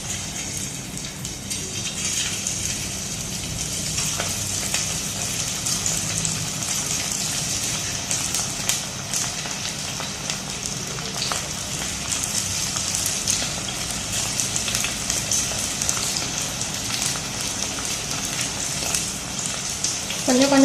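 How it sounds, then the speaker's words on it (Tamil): Rice pakoda batter frying in hot oil, a steady broadband sizzle and bubbling that holds evenly for the whole stretch, fairly close and with no talk over it. "இப்போ எண்ணெய் நல்லா காஞ்சிடுச்சு. பக்கோடா போடலாம்."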